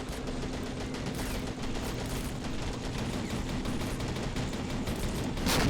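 Autocannon and artillery fire crackle without a break through a Red Rising mod battle set in a Russian invasion of Germany, a dense stream of shots at a steady, moderately loud level that swells near the end.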